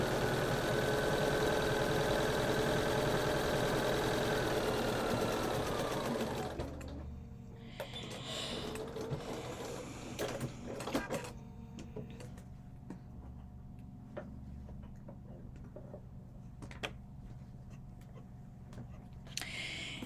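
A sewing machine stitches sari silk ribbon down the middle of a landscape quilt, running as a loud, steady whir for about seven seconds before stopping, leaving a quiet room with a few faint clicks and handling sounds.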